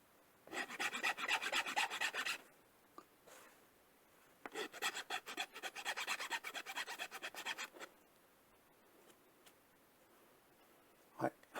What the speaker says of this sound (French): On va essayer de limer celui-là pour voir.